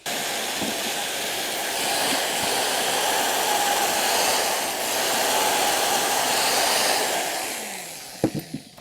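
A power screwdriver drives screws into a handmade mosaic tree-limb coffee table, a steady whirring drone lasting several seconds, then a few short sharp knocks as it stops.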